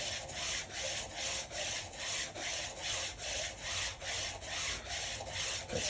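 Speed skate blades are being sharpened with a steady back-and-forth rubbing stroke, about fourteen even, rhythmic scraping passes in a row, close and moderately quiet, with no talking.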